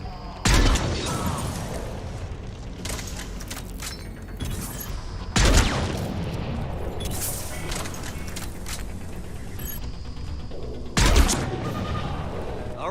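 Sniper rifle fire in the video game Mass Effect 3 during a firefight with Cerberus troops: three loud, sharp shots spaced several seconds apart over continuous battle noise and mechanical clatter.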